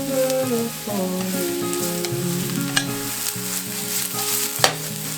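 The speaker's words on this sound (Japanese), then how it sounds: "フライパンに油をひいて人参と椎茸を炒めていく。" Carrot and shiitake stir-fried in oil in a frying pan, a steady close sizzle with utensil scrapes and a couple of sharp clacks against the pan.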